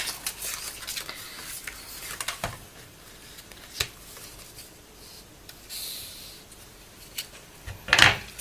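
Small scissors cut fabric or paper during a sewing or craft task, giving several brief, quiet snips spread across the stretch, with one sharper crisp cut near the end.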